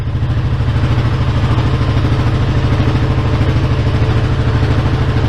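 A motorcycle engine idles high and steady up close, a loud, even rumbling chug with a fast regular beat and no pauses or talk.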